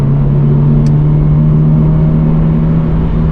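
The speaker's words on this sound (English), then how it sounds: "we're in fourth gear. we can let it rev all the way out." A manual car engine in fourth gear drones loud and close, holding a steady strong tone as it revs out.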